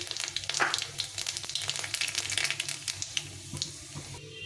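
Whole dried red chillies, panch phoron five-spice and black cumin sizzle in hot oil in a pan: a close, continuous frying hiss scattered with small pops and crackles, with no voices.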